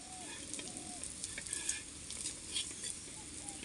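An omelette sizzles steadily in a pan during outdoor cooking in a garden, a continuous close crackling hiss with faint spatters and no voices.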